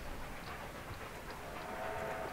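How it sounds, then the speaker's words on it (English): A steam train in the Civil War strategy game Ultimate General: Civil War rumbles at a steady, moderate distance, with a faint whistle-like tone drifting over the continuous mechanical drone and no voices. "I hear the choo-choo train."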